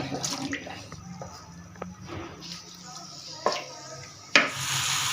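Marinated chicken dropped into three or four spoons of hot oil: a sudden loud sizzling hiss bursts out near the end and keeps going, following light kitchen clatter, with a person talking.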